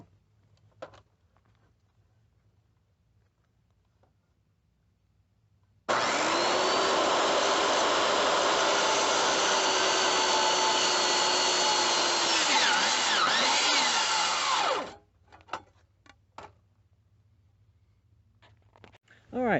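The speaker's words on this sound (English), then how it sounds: "make my cut with the old circular saw" A circular saw spins up and rips through a 2x6 wood board during a skylight leak repair, making a loud, steady whining cut for about nine seconds between quieter stretches of room noise.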